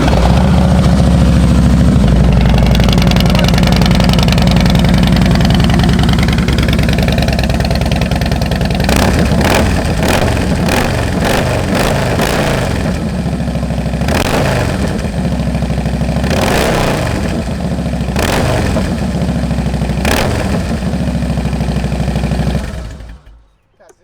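A 2008 Harley Davidson Fat Boy with 22,671 miles idles loud and close in a steady low rumble, then takes a series of sharp throttle blips in the second half before cutting off.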